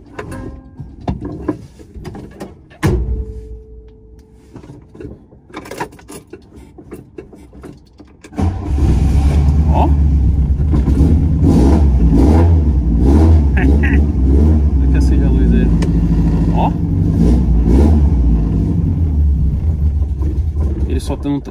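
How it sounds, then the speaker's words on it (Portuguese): A Volkswagen Passat engine sputters to life after scattered clicks and knocks, then drones loudly and steadily, revving in uneven surges, kept on the throttle so it does not stall. "Ele tem que ficar acelerando, tá ligado? Senão ele morre."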